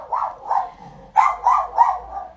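A dog barks six times in two quick groups, close and fairly loud, with a short pause between the groups.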